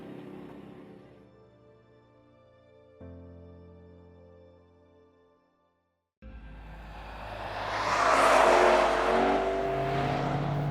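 Onboard a Lexus RC F on a race circuit, a tonal engine drone holds and fades, breaks off briefly into silence, then returns as a loud, rising, roaring acceleration.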